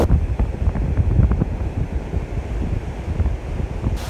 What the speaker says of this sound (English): Nice breeze, feels good.